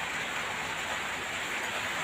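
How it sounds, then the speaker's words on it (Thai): Steady rain hissing continuously, a dense broadband wash with no breaks and no voices. "ฝนตกนะเพื่อน"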